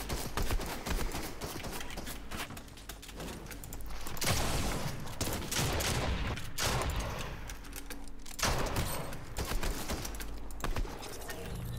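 Rapid gunfire from an unusual weapon in the Fortnite video game, dense bursts of crackling shots with a few louder blasts, continuous over about twelve seconds with faint voices underneath.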